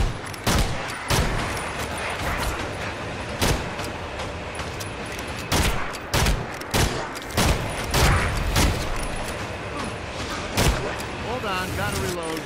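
Gunfire in Evil Dead: The Game, a video game: loud repeated shots in irregular bursts over a constant, dense background of game ambience, with no talk.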